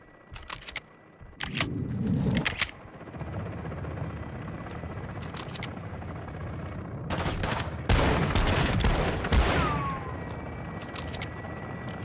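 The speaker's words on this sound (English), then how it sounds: "Taking belt-fed fire from beneath the tower." Belt-fed machine gun fire in the Call of Duty Modern Warfare 2 campaign, sounding as dense bursts of rapid shots from mid distance, with a loud stretch near the end over a steady ambient battle rumble.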